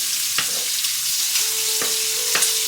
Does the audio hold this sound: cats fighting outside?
no